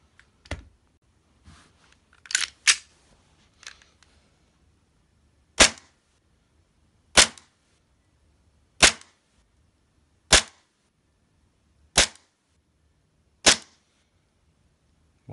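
A WeTech G26 compact airsoft pistol fires in semi-automatic mode, a sharp snap roughly every one and a half seconds over six shots, preceded by a few quicker clicks and scattered handling noises in a quiet room.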